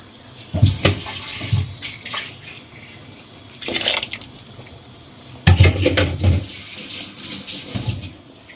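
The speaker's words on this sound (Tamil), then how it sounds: "அதையும் மிக்சியில் தண்ணி ஊற்றிக்கணும் நல்லா" Water pours into a mixer grinder jar in several short bursts, splashing and gurgling nearby, with brief pauses between pours.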